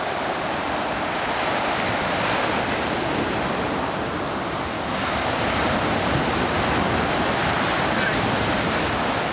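Ocean waves on a beach make a continuous loud, broadband surf roar that swells slightly and never breaks, with wind buffeting mixed in and no clear voices.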